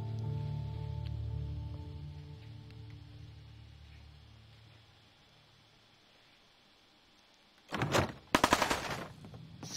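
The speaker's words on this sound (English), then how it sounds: "So there's definitely some shooting going on." Sharp bursts of gunfire crack out near the end in Fallout 4, loud clustered shots following a long stretch of low droning game ambience.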